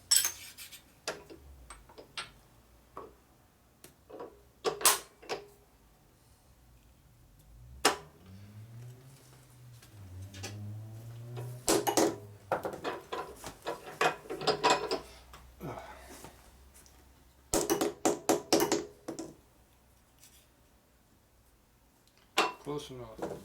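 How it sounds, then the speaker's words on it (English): A part being clamped and tightened in a bench vise during an Indian motorcycle rebuild, with scattered metallic clicks, ratcheting turns and short scraping sounds separated by quiet gaps. "now I'm going to put this in our vise."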